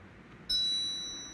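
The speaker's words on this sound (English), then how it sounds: "I'm sorry about the phone noises." A single bright phone notification ding rings out clearly over quiet room tone, then fades gently as the tone lingers.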